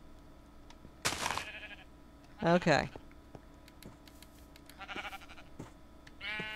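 Sheep in a modded block-building video game bleat four times at uneven intervals, loud against a quiet background with faint keyboard typing, and a person briefly speaks.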